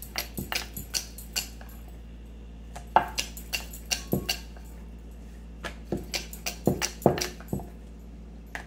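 Flour-dusted stuffed paratha dough is rolled out on a board, with sharp, close wooden knocks and taps coming in irregular bursts against a quiet background.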